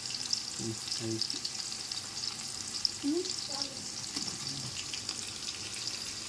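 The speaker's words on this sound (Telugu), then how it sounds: "ఉల్లిపాయ పచ్చిమిర్చి కూడా వేయించుకోవాలండి బాగా వేసి మంచి కలర్ రావాలి" Onions and green chillies fry in oil in a pan for Andhra-style prawn pulao, giving a steady close hiss and crackle, with a few stirring scrapes and someone speaking briefly over it.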